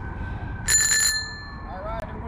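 A bicycle bell rings in a short burst of bright metallic trills, close and clear over steady outdoor background noise, during a group holiday bike ride at night.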